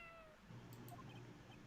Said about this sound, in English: It sounded like a cat.